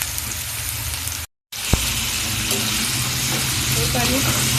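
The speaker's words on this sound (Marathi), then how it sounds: "हे पनीर फ्राय करून घेते." Paneer shallow-fries in a pan, giving a steady, close sizzle and crackle that runs through the whole clip, with one brief dropout partway through.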